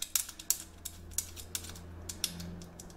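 A small 5 mm screw with a washer being driven in by hand, a series of faint, close clicks and light creaks in an uneven rhythm over a quiet background.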